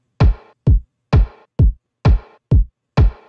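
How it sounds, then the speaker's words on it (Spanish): Electronic drum pattern from a track: a deep kick alternating with a sharper, shorter rim shot in a steady looping groove, seven crisp hits played dry and alone. "Después ponemos un rim shot, que sonaría así."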